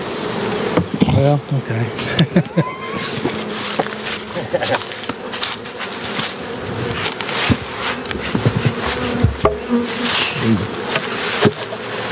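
Honeybees buzz loudly and continuously around an open hive during a spring inspection, with individual bees droning close past, while sharp clicks and knocks of hive frames and tools cut through and a person speaks briefly.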